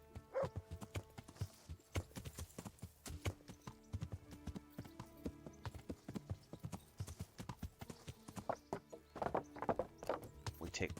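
Steady clip-clop of horse hooves plodding along in an even walking rhythm in the video game Kingdom Come: Deliverance, close and fairly quiet, with soft music in the background.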